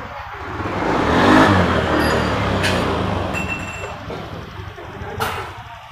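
A Honda Beat FI scooter engine runs close by after a kick start, a steady low idle that swells in the first seconds and then settles, with a few light clinks.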